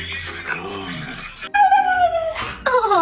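A dog whimpers and yips after being kissed on the head, giving a series of high, wavering whines that rise in pitch, loud and close, with a sharper yelp near the end.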